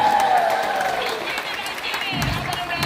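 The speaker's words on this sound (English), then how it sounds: "How about a round of applause for Karen?" An audience at Walt Disney World applauds and cheers for a participant named Karen, a dense, fairly loud crowd clapping that carries on evenly with a faint tone and murmur mixed in.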